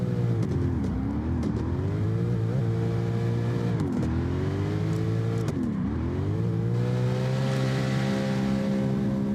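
A race car engine revs hard and steady while climbing a hill, its loud sustained drone dipping briefly at gear changes three times before pulling up again, with no talk.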